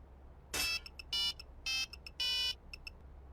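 A phone ringtone plays in short bursts of bright, electronic tones, four main pulses with quick small blips between, fairly loud against a quiet background.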